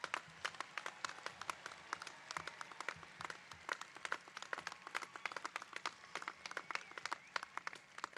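Applause for the graduates at Oglethorpe University's 2018 commencement, a modest crowd's scattered, irregular claps sounding fairly distant and faint, continuing steadily with no talking over them.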